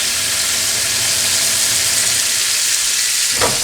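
Food searing on a hot griddle gives a loud, continuous broadband sizzle that stays steady throughout. Near the end a brief rising squeak cuts through the hiss.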